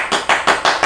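Crisp, steady hand claps ring out in an even rhythm, four loud close claps in under a second with no talk over them.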